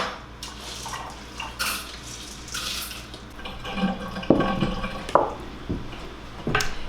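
Tap water runs and splashes as lentils are rinsed in a kitchen, with clinks of a pan or bowl and uneven bursts of spray over a steady watery hiss.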